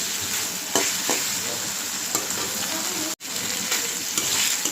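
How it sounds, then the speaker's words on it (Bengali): Ginger and cumin frying in a pan, a close, steady sizzling hiss with occasional stirring scrapes and a brief drop to near silence about two-thirds of the way in. "তো আদা আর জিরাটা আমি ভালো করে ভেজে নিলাম"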